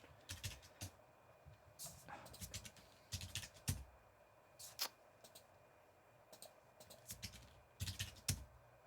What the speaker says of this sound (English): I'm typing it in the wrong spot?